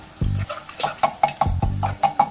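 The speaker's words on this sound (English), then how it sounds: "I'll throw in 2 cans of tomato sauce. Just mix that all up." Two cans of tomato sauce get mixed in a metal pan, with a spoon clanking and scraping against it in quick, ringing strikes, close and fairly loud, no talking.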